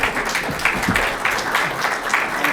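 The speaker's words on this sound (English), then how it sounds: "Let's give the panel a round of applause" Audience applause for the panel at an insurtech conference session: a dense, steady ovation from a sizeable crowd that stays loud and even for the whole stretch, with faint voices mixed in.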